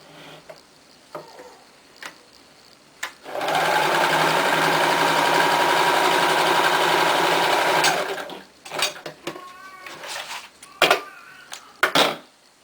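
A sewing machine runs steadily for about five seconds, stitching alongside a pressed garment seam, with light handling clicks and rustles before and after.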